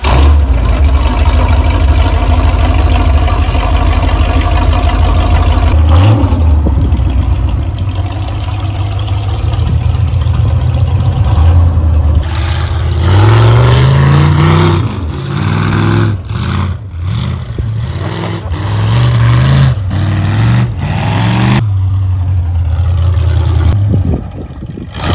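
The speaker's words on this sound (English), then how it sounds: "We're gonna take it for a test drive here in a bit and get on it" Derby truck engine on a test drive, loud and close, rumbling steadily before climbing through repeated revs and gear changes, the pitch sweeping up and down with a rough, throaty roar.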